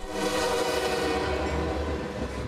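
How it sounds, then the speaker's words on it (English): A train rolls past close to homes near the tracks, with a steady, loud rumble and a sustained horn-like tone over the whole stretch. "He says the trains come by often, making it hard to sleep."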